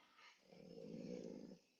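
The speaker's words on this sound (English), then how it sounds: "Can you guys hear my dog again?" A dog growls right beside someone, one low sustained rumbling growl about a second long, preceded by a brief breathy snuffle, close and fairly quiet, with no talking over it.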